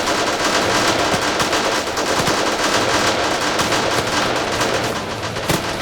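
Dense, rapid bursts of weapons fire in a close-range firefight, loud and continuous with overlapping cracks and no pauses, and no voices over it.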